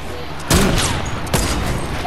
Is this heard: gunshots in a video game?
yes